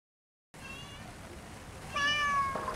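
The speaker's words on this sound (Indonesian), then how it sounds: "Serunya kalau makan di sini, kucing-kucing pada nempel gitu ke kita." A cat meows at an eatery serving Madura-style chicken: a steady room murmur, then a clear, fairly close meow near the end, with no talk over it.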